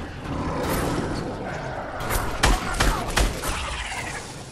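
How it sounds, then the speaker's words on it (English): Gunfire in Fortnite, a few sharp loud shots in quick succession over steady game ambience and background noise, with talk faintly underneath. "Who shot that?"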